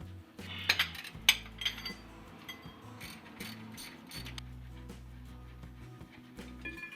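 Metallic ratcheting and clinks as a wrench works the 18mm bolts holding the rear brake caliper adapter on a Jeep Wrangler JL, quick ratchet bursts and tool clatter close by, with no one talking.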